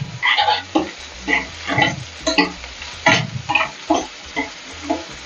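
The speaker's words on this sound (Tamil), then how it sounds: "இப்போ அது கொஞ்சம் நம்ம கொஞ்சமாக உப்பு போட்டுக்கலாம் வெங்காயம் வதக்கிறதுக்கு" Onions sautéing with salt in a pan for a Tamil keerai and vazhakkai dish, heard as a steady frying sizzle with repeated scraping stirs of a spoon against the pan.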